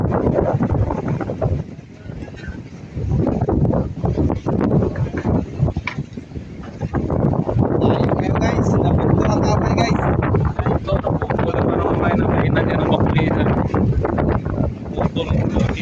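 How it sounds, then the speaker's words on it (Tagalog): Strong Amihan wind roars and buffets the microphone out at sea, with people talking faintly beneath the gusts. "Lakas ng hangin."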